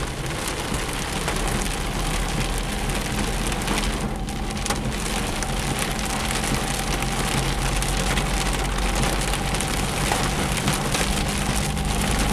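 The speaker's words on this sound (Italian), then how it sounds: "ecco la grandine, come avevo previsto" Hail and heavy rain pelt a Fiat Panda driving along country roads in a storm, a dense, unbroken drumming and crackling on the car body that stays loud and steady throughout.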